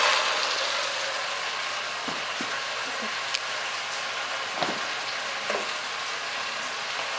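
Yellowtail fish frying in a pan gives a steady, close, hissing sizzle with a few faint pops and utensil clicks scattered through it.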